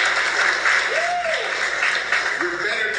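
A comedy club audience claps briefly at a stand-up show, a dense patter of hands with voices and a whoop rising over it.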